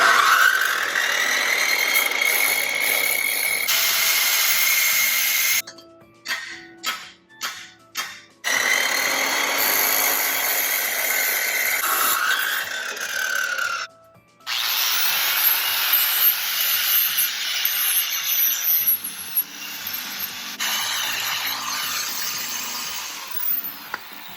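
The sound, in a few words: power tool cutting metal for DIY bumper guard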